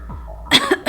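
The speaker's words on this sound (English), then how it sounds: "The researcher coughed as he spoke." A man, a researcher, coughs once sharply at close range, a brief harsh burst with a short follow-up, after a moment of quiet.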